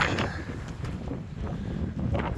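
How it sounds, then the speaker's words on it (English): Gusty wind buffeting the microphone on a chilly hillside during a hike for elk sheds, rising and falling in uneven rumbling surges with no talking. "It's pretty windy."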